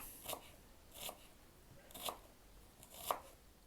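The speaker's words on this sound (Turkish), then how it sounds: "Soğanları küp küp doğruyoruz." Four separate knife chops dicing onions on a board, spaced about a second apart, crisp and close with quiet pauses between.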